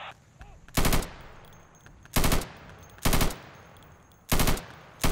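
Automatic gunfire from a first-person shooter game in four loud, separate bursts of roughly a third of a second each, with quieter in-game ambience and faint background sound between the volleys.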